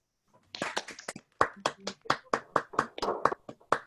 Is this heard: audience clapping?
yes